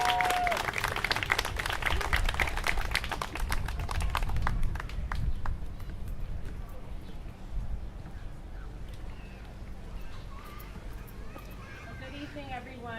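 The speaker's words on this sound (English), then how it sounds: "Please, everyone, round of applause for Katie Lundgren." Applause and clapping from an audience at an evening school dedication with a poetry slam, dense and lively for the first few seconds, then easing off as a voice begins speaking over the fading crowd.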